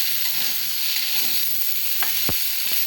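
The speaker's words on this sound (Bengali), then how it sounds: "সকাল সকাল বন্ধুরা রান্না করতেছি আলু পটলের তরকারি।" Potato and pointed gourd curry frying in a pan, a steady close sizzle throughout with a few sharp stirring clicks near the end and no talking.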